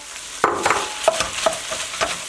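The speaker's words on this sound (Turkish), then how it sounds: "Birazcık soğan kavrulsun arkadaşlar." Chopped onions sauté in olive oil for a chicken sultan kebab, stirred with a utensil: a handful of sharp scraping taps at irregular intervals over a soft, steady frying sizzle, close by, with no talking.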